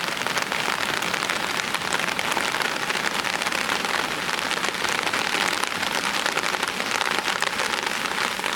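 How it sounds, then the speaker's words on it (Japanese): Heavy, large-drop rain drums on a DIY kei truck camper on the night before a typhoon. A dense, constant patter fills the cabin, close and loud, without pauses or voices. "激しい雨音で目が覚めました。"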